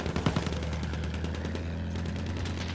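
Rapid machine-gun fire in Battlefield 1 on the Sinai Desert map, aimed at an aircraft overhead: a continuous, fast, evenly pulsed stream of close, loud shots with no pause.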